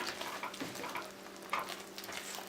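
Soft tomatoes and tomato puree sizzle and fry in a pan while being stirred, with gentle scraping and bubbling for a few seconds, alone without talk.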